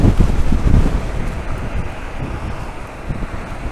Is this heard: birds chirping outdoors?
no